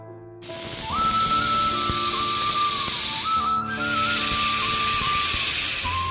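Pressure cooker whistle while boiling dal with salt, a loud continuous steam hiss with a wavering tonal whistle that dips briefly midway before resuming, close and dominant.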